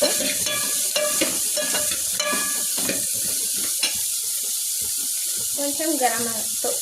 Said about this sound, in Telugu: దీంట్లో కొంచెం నిమ్మకాయ రసము బాగా మిక్స్ చేయాలి.